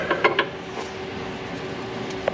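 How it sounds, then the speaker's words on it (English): A quarter-inch ratchet with a half-inch drive socket tightens a bolt on a CAT 3126 diesel engine, giving a few close, quick metallic clicks at the start and one faint click near the end over a steady hum. "get in there with another ratchet and then tighten one of those bolts"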